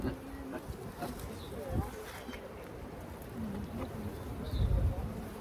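Honey bees hum and buzz around an opened hive during a split and inspection, a close, continuous swarm drone with passing individual buzzes, while people talk quietly.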